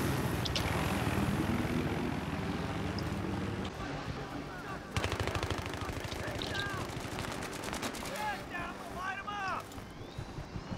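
Helicopter and aircraft engine drone with bursts of rapid gunfire from a Battlefield 3 capture-the-flag match, loud and dense throughout, with sharp firing rattles after the midpoint and players' voices now and then.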